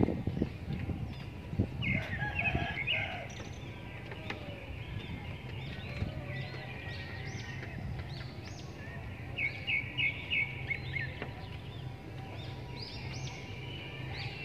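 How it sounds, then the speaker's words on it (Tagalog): A bird repeatedly calls and chirps in short bright bursts near a waterside boardwalk, moderately close, over low outdoor rumble and scattered background noise. "Ayun, may ibon. Ang ganda ng ibon."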